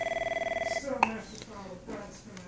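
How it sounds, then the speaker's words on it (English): Electronic ring of an Avaya IP Office 9500 series desk phone at the transfer extension, a steady pulsing warble for under a second that gives way to talking. "It's ringing at that extension."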